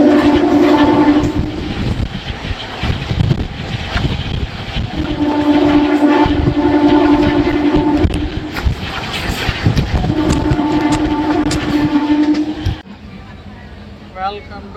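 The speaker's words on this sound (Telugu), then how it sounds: "నాన్ స్టాప్ ఉంది ఈ ట్రైన్ రాజమండ్రి నుండి విజయవాడ దాకా కూడా" The Kakinada Port–Vijayawada express runs loud and steady, a rumble rising in swells over rhythmic wheel clatter and rushing wind from an open window, then it drops suddenly into a quieter interior.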